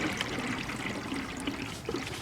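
Liquid coolant in a 50-50 mix poured into the cooling system of a 2002-2006 Jeep Liberty 3.7L, a steady close trickle and dribble running throughout.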